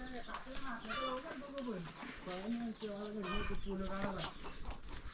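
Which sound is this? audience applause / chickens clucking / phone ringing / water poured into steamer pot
chickens clucking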